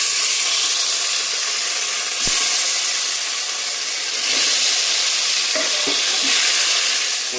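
Paneer pieces fry in hot oil seasoned with turmeric and salt, giving a loud, steady sizzle with a few brief stirring knocks and no voices.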